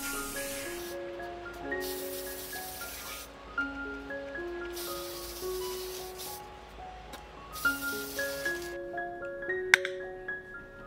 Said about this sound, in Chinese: 接下去就需要用透明的喷漆，这样表面的颜色一下子又会显现出来